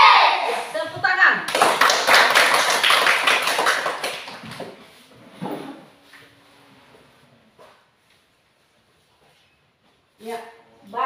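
Children in a classroom clap their hands in a loud burst of rapid claps that fades out after a few seconds, followed by quieter voices and near silence.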